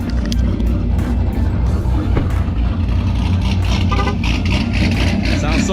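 A Pontiac G8 out on a test drive with its procharger removed, its engine droning steadily and close throughout, with a dense, rumbling low end and no pauses.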